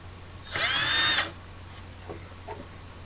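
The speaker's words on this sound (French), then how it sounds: "je vais faire deux trous, je vais mettre deux chevilles pour fixer l'équerre au mur" A power drill with a 4 mm bit bores into a wall for plugs, one steady whining burst of under a second, then faint knocks in a quiet room.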